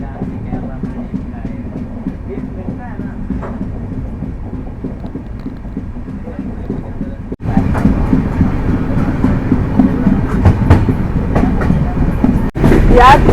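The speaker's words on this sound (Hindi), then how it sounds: "अभी जाके ट्रेन चली है इतनी देर में" The Kerala Sampark Kranti Express rolls along the rails with a continuous rumbling clatter, which jumps louder partway through as the carriage noise intensifies. Faint voices are mixed in.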